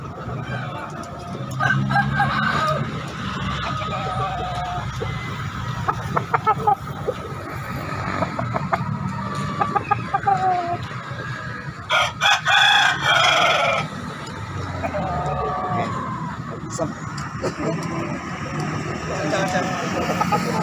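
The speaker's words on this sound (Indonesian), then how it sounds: "saksikan ini keberagaman ayam yang ada di Pasar Daya Makassar" Roosters crow and chickens cluck at a busy poultry market in Makassar, with repeated crows over a steady crowd din, a passing vehicle and people talking throughout.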